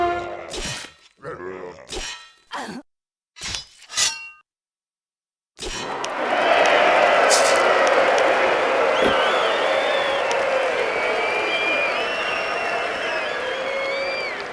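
A crowd in a Spellforce video game arena applauds and cheers loudly and steadily for about nine seconds, following a few short bursts of speech and a brief silence.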